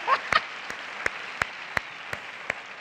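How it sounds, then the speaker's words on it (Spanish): Sparse, slow applause from a talk show studio audience: a handful of separate, evenly spaced claps over a steady background hiss, fairly quiet. "Hay un aplauso para el Pepe"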